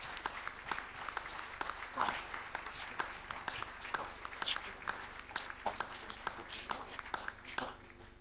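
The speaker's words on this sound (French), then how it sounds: "salve d'applaudissements du tonnerre" An audience at the Académie de Saintonge 2024 prize ceremony in Royan applauds the sponsors, sparse individual claps rising into steady clapping from a moderately distant crowd, with some murmuring underneath.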